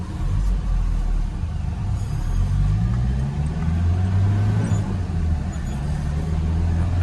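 An Isuzu TFR pickup, top-spec SLX trim, pulls away with its engine building under acceleration on a road drive, a steady loud low rumble with rising drone and continuous road noise throughout.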